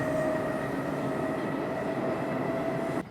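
A new Russian metro train riding between stops, a steady loud rumble of wheels and carriage with a faint high whine, heard from inside the car without talk, cutting off near the end.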